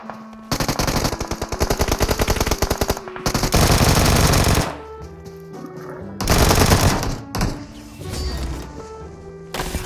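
Rapid automatic gunfire in a PUBG Mobile match, loud and close, with long sustained bursts separated by short pauses and a few single shots and impacts.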